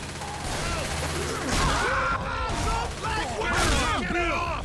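Gunfire from weapons in the zombie shooter game Left 4 Dead 2, a dense loud burst of shots over a busy mix of game effects and character voices throughout.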